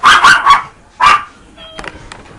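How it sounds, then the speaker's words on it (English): A dog barks close by: a few quick, sharp barks in a short burst, then one more bark after a pause, followed by faint light clicks. "Get out of here with the dog barking."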